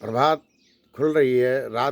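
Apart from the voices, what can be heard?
No everyday noise stands out behind the speech.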